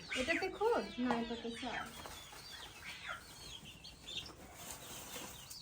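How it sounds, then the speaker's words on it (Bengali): Native chickens cluck and flap close by on a farm, with a burst of activity at the start and then softer clucks over steady background noise, while a person talks over them. "এই যে দেশি মুরগি"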